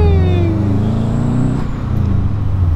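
A built Subaru WRX engine runs loud and close as the car moves off, with a deep, steady rumble and shifting engine tones. No talking is heard.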